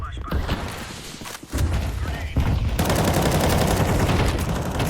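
Gunfire crackles and thumps in a tactical shooter game after a flashbang grenade goes off, loud and continuous bursts filling the whole stretch.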